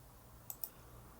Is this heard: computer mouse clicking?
yes